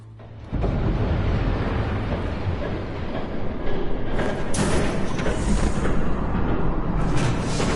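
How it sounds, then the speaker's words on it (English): A train rushes past in a Batman Telltale game scene, a loud, steady rumbling roar that begins suddenly and continues, with hissing bursts of noise on top. "There's a train coming."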